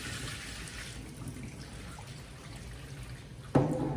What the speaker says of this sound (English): Now I poured the water.